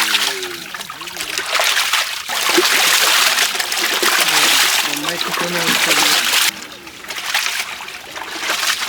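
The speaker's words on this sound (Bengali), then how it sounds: "মাংসটা আমরা এখন ধুয়ে নেবো" Meat is washed by hand in water in an outdoor home kitchen, with splashing and trickling water running most of the time while people talk over it.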